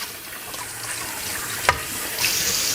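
Cold tap water runs steadily into a sink while dishes are washed, a continuous close hiss with a small clink of a plate partway through.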